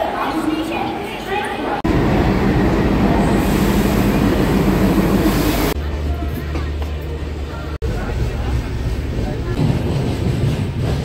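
Godavari Express train at Secunderabad railway station: a loud, close rumbling roar from the rolling train with broad rushing noise and abrupt shifts in level, while a person talks over it.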